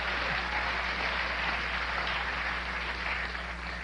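A studio audience at a late-night talk show taping claps steadily through a stand-up comedy set, a dense, even wash of applause with a faint low hum beneath it.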